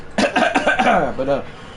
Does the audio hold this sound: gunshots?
no